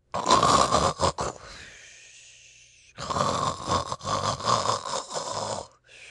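Loud, rasping snoring of a badger in a storybook reading, two long, snorting bursts separated by a quiet pause, performed by a voice.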